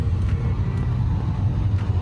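A car rolls along a road with a steady low rumble of engine and tire noise, continuous and fairly close, heard from inside the vehicle with no talking.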